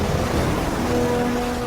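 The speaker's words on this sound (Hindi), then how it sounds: "भयानक लहरें किनारे की इस नर्सरी तक आ रही हैं" Heavy storm surf crashes and rolls continuously onto a shore where a seal pup nursery sits, a loud, dense, unbroken roar of breaking waves with no voices.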